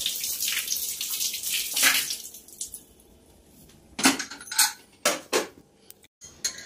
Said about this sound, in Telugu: కట్ చేసుకుని నీట్గా కడిగేసుకోవాలి